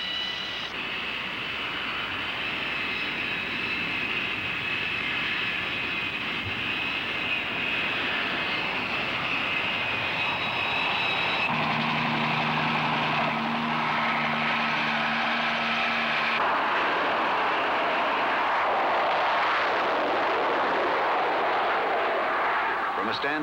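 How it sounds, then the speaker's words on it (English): A jet aircraft launching from an aircraft carrier gives a sustained loud roar of engines and rushing noise that shifts in tone partway through and builds to a broad blast near the end. A narrator speaks over it. "From a standing start, 20 tons of aircraft reach flying speed in 2 seconds flat."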